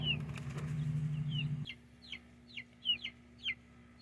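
Young chickens cluck and cheep in short, scattered high chirps, while a burst of wing flapping and scuffling sounds near the start, then the calls continue in sparse bursts over a low steady hum.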